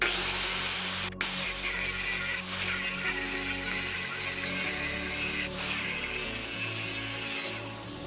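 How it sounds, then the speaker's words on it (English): A power drill bores a hole through aluminum, running continuously, close and loud, its motor whine steady with slight shifts in pitch, with a brief interruption early on. "make sure I drill one continuous hole from one end to wherever it comes out"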